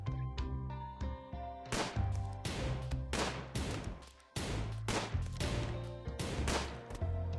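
Repeated sharp gunshots in the colony game RimWorld, several close bursts of gunfire in quick succession with a brief lull midway, loud and dry with no talk.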